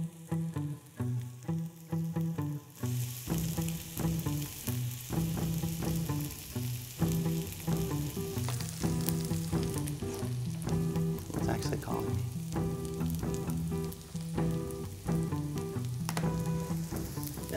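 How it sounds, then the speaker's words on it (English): Onions frying in a pan, a dense steady sizzle and crackle that continues throughout, loud and close, with occasional stirring clatter and no speech. "Now listen, I'm burning these onions."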